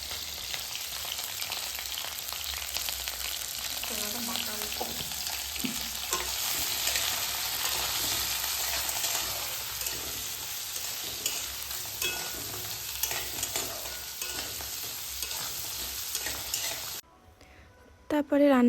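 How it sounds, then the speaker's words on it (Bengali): Fish frying in a pan in a home kitchen, with a steady, loud sizzle and occasional stirring noises throughout, ending abruptly near the close. "আমি শুধু মাছটাই ভাজবো"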